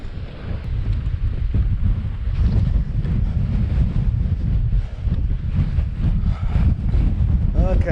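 Strong wind roars across the microphone on the Wales Coast Path near St Justinian's between Whitesands Bay and Porthclais, a loud, constant low buffeting rumble for the whole stretch, with faint voices partly buried beneath it.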